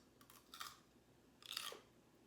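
Raw purple cabbage is bitten and chewed up close, two short crisp crunching bursts about a second apart, quiet but distinct, with no talking.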